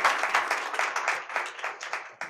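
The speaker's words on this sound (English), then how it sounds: "Let's give Josh a round of applause." An audience at a tech forum at Atlanta Tech Village gives a round of applause for Josh, a steady patter of many hands clapping close by that carries on for a couple of seconds and then tapers off.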